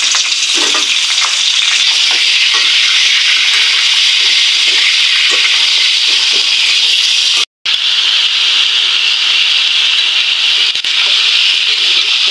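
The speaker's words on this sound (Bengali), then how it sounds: "এগুলোকে একটু তেলে না দিলে কি হয়, রান্না করার সময় ফেনা উঠে যাবে, ফেনাটা ভালো লাগে না দেখতে। তাই একটু ভেজে নেব।" Chicken pieces fry in hot oil in a pan, a loud steady sizzle and crackle holding without pause, broken only by a momentary cut partway through.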